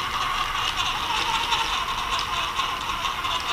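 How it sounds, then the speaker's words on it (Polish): A faulty gearbox on a cheap RC trial model car gives off a continuous, high-pitched mechanical whir and grinding rattle, steady and close-up with no talking. "Słychać, że ta skrzynia po prostu nie pracuje tak, jak powinna."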